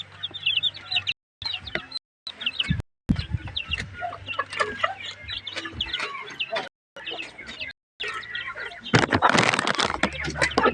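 Chickens cluck and chatter busily at a feeding, close and continuous with brief gaps, a louder flurry of wings or scratching near the end, with some human voice mixed in.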